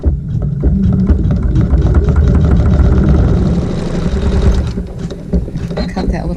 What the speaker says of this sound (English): and we sew a seam.